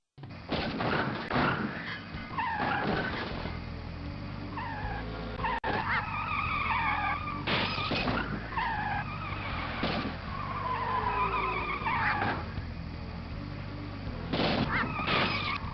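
Cartoon cars racing and skidding in Putt-Putt Enters the Race, with repeated loud tire squeals and engine whines sweeping up and down over steady engine noise and music.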